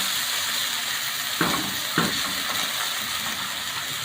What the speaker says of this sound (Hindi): इसी ऑयल में ये मैंने एक बड़ी चॉप किया हुआ प्याज लिया है। इसको हम फ्राई करेंगे।